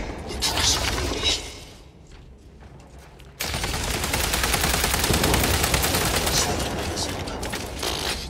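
SMG gunfire in Warhammer 40k: Space Marine 2, heard as a dense, loud, rapid stream of automatic shots, stopping briefly and then resuming in a long continuous burst, mixed with chaotic battle noise.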